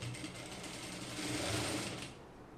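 A sewing machine stitches the back neck of a kurti with a steady, close mechanical whir that swells slightly midway and then eases off. No voices are heard over it.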